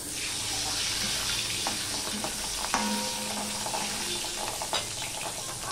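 Pabda fish frying in hot oil, a close, steady sizzle dotted with sharp pops and crackles of spitting oil throughout.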